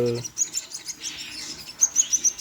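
Small birds give high, thin chirps in quick repeated bursts, fairly close and moderately loud against a quiet background.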